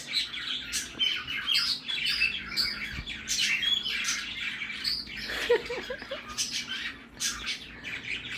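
A pet cockatiel chatters and warbles in a parakeet-like song, a close, busy stream of squawks, chirps and high whistles with brief pauses.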